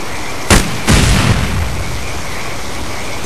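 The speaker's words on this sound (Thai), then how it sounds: "ระวังกับระเบิดนั่นครับ" A grenade bursts in the Counter-Strike Zero shooter: a sharp blast, then a second louder, longer boom about half a second later, both close, with a steady game ambience continuing afterwards.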